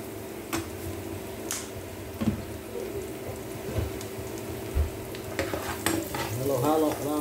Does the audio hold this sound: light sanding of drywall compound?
no